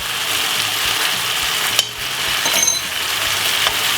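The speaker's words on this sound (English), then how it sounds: "Give it a stir" Steady frying sizzle with scraping, clinking strokes of a spoon stirring pepper mackerel with mixed herbs in a pot, a sharper clatter near the middle, no talk.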